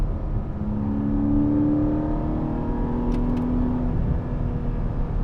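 A 2021 Porsche 718 Cayman GTS 4.0 with its flat-six engine drones loud and steady from inside the car, its tone held even and slightly rising throughout, with no talking.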